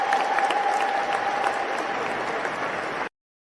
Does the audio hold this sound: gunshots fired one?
no